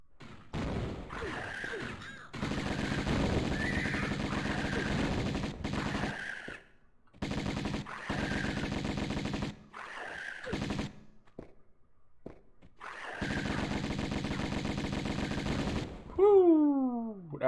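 Gunfire in the Tomb Raider video game: long loud bursts of rapid automatic fire broken by short pauses, ending in a falling, screech-like cry, with no talking.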